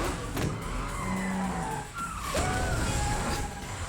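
A cartoon car chase through New York streets, with engines roaring and tires skidding and squealing in several sharp swoops over a busy, loud, continuous mix.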